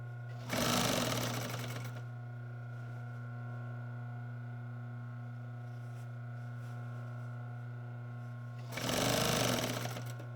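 A sewing machine stitches a wing chair slipcover in two short whirring runs separated by a long pause, with a steady electrical hum continuing in between, close and clear.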